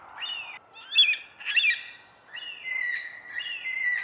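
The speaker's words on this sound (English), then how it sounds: "There's the black cockatoos." Black cockatoos call among treetops, a series of wavering, drawn-out cries with short gaps, moderately distant and clear over quiet background.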